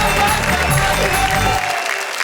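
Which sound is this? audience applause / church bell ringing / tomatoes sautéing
audience applause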